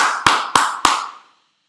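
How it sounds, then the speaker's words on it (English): Three sharp, evenly spaced hand claps in a live online class, close and loud, each leaving a short ringing tail before silence. "Come on, everybody give a big clap."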